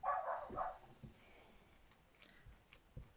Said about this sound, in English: it's very irritating hearing dogs barking.